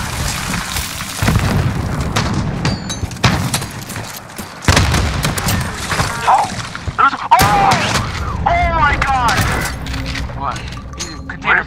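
A grenade explodes in Call of Duty Modern Warfare with a loud boom amid scattered gunfire and cracks, while players talk excitedly throughout.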